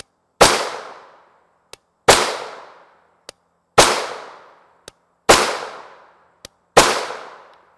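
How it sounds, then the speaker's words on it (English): Five evenly spaced, sharp shots of 9mm Sig V-Crown 124 grain jacketed hollow point ammunition are fired from a 16-inch ARV9 carbine at 25 yards, each with a decaying tail and a faint click between shots. "Here is our Sig V-Crown 124 grain jacketed hollow point at 25 yards using our 16-inch ARV9"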